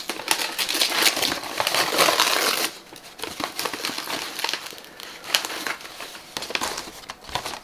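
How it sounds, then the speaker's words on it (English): Plastic shrink wrap crinkles and crackles loudly and close up as it is peeled slowly off a book, in a dense burst that eases into softer, intermittent rustles. "I don't want to rip the wrapper and damage the book"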